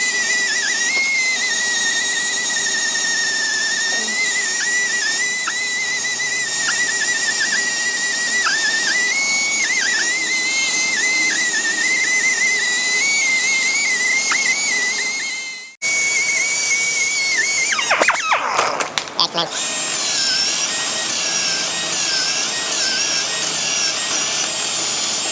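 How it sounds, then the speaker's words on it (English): Power tool polishing a brake rotor, a loud steady high whine that runs unbroken for about fifteen seconds, cuts out, then restarts with rougher grinding and scraping toward the end, with no talking. "Let us polish and make it shiny."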